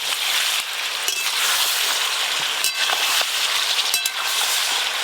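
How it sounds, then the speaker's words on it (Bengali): Chicken kosha being stirred in a frying pan over low heat, giving a steady broadband sizzle with scattered scraping and clinking ticks from the spoon against the pan throughout. "চাপা খুলে আরেকবার ভালো করে নেড়ে নেব।"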